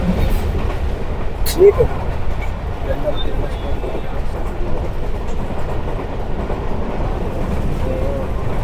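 The Hazara Express rolls along the rails between Khanewal and Rohri, a steady loud rumble and rattle of the moving carriages from onboard, with a voice speaking briefly over the continuous noise.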